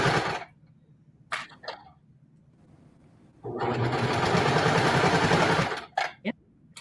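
A serger overlocks a fabric seam while a dress is being sewn, giving a close, fast mechanical whir in one sustained run of about two seconds, with short clicks and bursts of handling before and after.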